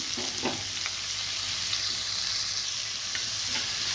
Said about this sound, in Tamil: இப்போ நம்ம நறுக்கி வச்சுருக்க வெங்காயத்தை நல்லா வதக்கி எடுத்துக்கலாம்